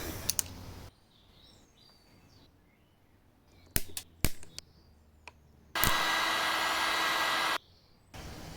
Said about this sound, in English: So I'll cut it to size and then plastic weld it in.